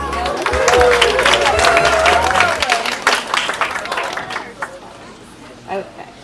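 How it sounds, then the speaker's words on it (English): A round of applause rises for Sarah at a wedding reception, dense clapping mixed with crowd chatter and cheers, then thinning out over the last seconds to a few scattered claps and voices. "Let's see a round of applause for Sarah."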